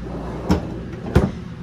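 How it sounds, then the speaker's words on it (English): A freezer drawer in a 2021 Forest River Sabre 37FBT fifth wheel travel trailer slides and bumps, giving two distinct close knocks about half a second apart over quiet room tone. "this would slide back and you'd have a deeper drawer underneath."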